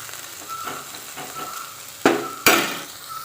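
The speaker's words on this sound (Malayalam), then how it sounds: "ഇപ്പോൾ നമ്മളെ പപ്പായ അതുപോലെ നല്ല ഫ്രൈ ആയി വന്നിട്ടുണ്ട് ഒന്ന് നമുക്ക് മറിച്ചിട്ട് കൊടുക്കുകയൊക്കെ വേണം" Papaya pieces sizzle steadily in a hot pan while they are stirred and flipped, with soft scraping and then two sharp metallic clanks of the utensil against the pan near the end.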